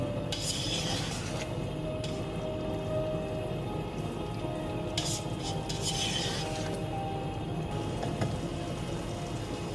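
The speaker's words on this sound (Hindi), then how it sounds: "इनको चावलों को अच्छी तरह से गुड़ के साथ मिक्स करें।" Rice being stirred with jaggery in a cooking pan, producing a steady, soft scraping and clinking of a spoon against metal, continuous and fairly close with a faint background hum.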